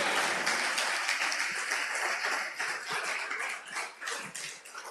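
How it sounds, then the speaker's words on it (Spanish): A church congregation gives God a round of applause, a thick, continuous patter of many hands that thins and grows uneven toward the end, moderately faint. "Dale un aplauso a Dios."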